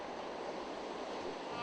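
Ocean surf at a surf swimming race washes in a steady, fairly faint broadband hiss of breaking waves, heard without talk.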